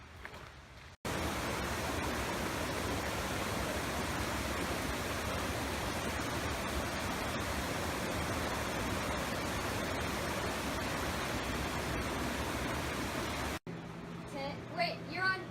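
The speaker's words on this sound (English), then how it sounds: "Walking down here because we hear water." Steady broadband rush of a stream or waterfall at a wooded campsite, loud and continuous for most of the stretch, cut off abruptly at both ends.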